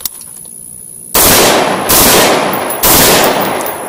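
Rifle gunshots at a shooting range during test-firing with a Sightmark Mini M Spec sight, three loud, sharp close reports spaced about a second apart after a quiet start, each with a long ringing decay.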